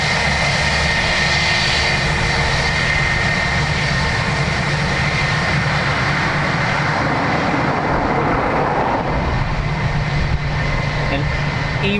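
Jet airliner on approach at Dublin Airport, a steady broad engine roar that stays loud and continuous throughout, with a voice talking over it.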